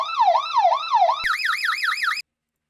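A generic vehicle alarm in the Stormworks game sounds alone and loud as a warbling siren, first in a lower pitch, then switching abruptly to a higher, faster wail before cutting off.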